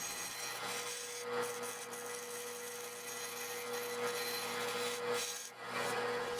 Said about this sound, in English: Did a little bit of sanding